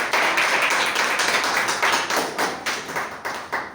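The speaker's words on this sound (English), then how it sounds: "please welcome her with a great round of applause" Steady, dense clapping from a Toastmasters meeting audience welcoming a speaker, a continuous patter of many hands that thins toward the end, with no talking over it.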